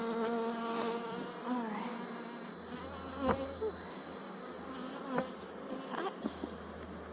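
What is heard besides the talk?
honey bees buzzing at hive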